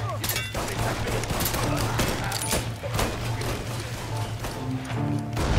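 Gunfire in the Mafia III video game: dense, rapid volleys of shots crackle nonstop, loud and close, over a low humming game background, with a voice talking faintly underneath.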